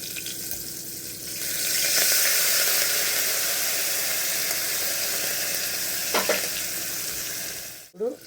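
Crushed garlic cloves dropped into a hot pan for a home-style tomato and moong dal dish, bursting into a loud, sustained close sizzle that holds steady, with a couple of stirring scrapes and a clatter near the end.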